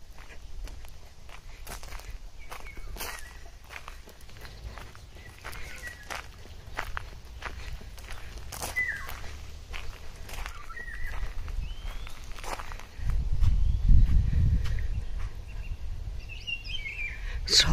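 Birds chirp faintly outdoors at a historic site while footsteps crunch steadily throughout, with a louder low rumble of movement near the end.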